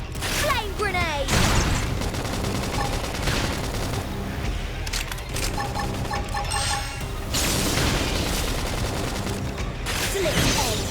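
A flame grenade blast in the video game Xenoblade Chronicles X, heard among loud, continuous combat noise with rapid gunfire-like bursts, booms and character voice lines.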